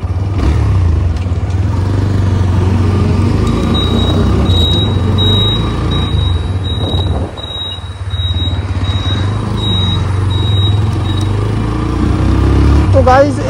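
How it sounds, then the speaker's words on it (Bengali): A motorbike engine runs close by with a low, steady drone that holds nearly level while the bike moves off, a thin electronic tone beeping above it partway through. "চলো বাইকটাকে স্টার্ট দিয়ে চলো যাওয়া যাক।"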